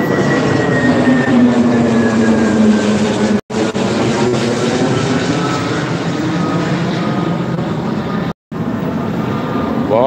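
An Indigo Airlines passenger airplane in flight, heard as a loud, continuous engine roar and rushing cabin drone that holds steady apart from two brief dropouts.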